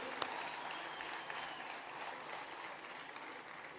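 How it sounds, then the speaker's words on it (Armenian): An audience at an outdoor public event claps to greet the performing groups, a faint, even patter of applause heard from a distance. "իրար հետ ծափերով ողջունենք բոլոր"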